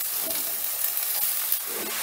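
Chopped cabbage sizzles in a pan with ginger, steady loud frying hiss with soft scraping strokes from stirring, close up and without talk.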